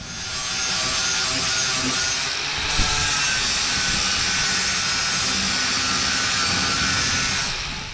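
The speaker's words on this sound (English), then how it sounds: "I need to do a little grinding up here. Grind that ear off a little bit." An angle grinder cuts an ear off a steel truss fitted to a Dana 30 axle on a Jeep XJ, a loud, steady, close abrasive whine holding for the full stretch with one brief dip.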